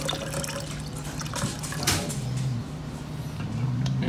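Tequila or rum poured into a cocktail mix, a short close trickle of liquid splashing steadily for a few seconds.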